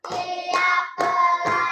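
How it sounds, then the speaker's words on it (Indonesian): A classroom of students claps in counted unison, sharp group hand claps landing in a steady rhythm with brief pauses between beats. "Tepuk 1, tepuk 2, tepuk 3, tepuk 4, tepuk 5."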